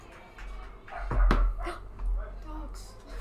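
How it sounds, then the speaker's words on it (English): Dogs bark near a softball game, sharp barks and yips rising over crowd murmur and a commentator's talk, with low rumble beneath. "Dogs."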